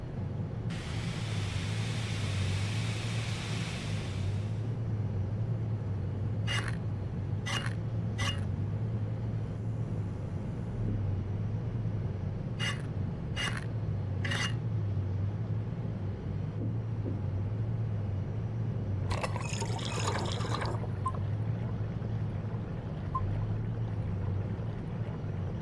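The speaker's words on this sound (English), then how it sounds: "So we do some engine repairs, guys." Engine repair work aboard a boat in a video game: a steady low engine rumble runs throughout, broken by a burst of hissing noise early on, several sharp clanks in two groups, and a rattling clatter near the end.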